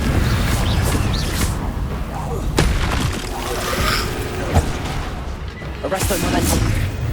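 A Confringo explosion spell in Hogwarts Legacy, several booming blasts in a busy game scene, with deep rumbling impacts and sharp bursts.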